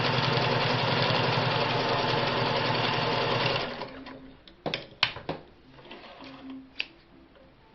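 A restored all-metal aluminium Singer 401A sewing machine runs at a steady, fast, close stitching hum for several seconds, then stops, leaving scattered clicks and handling knocks.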